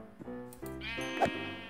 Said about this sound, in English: Ah, there's a sheep.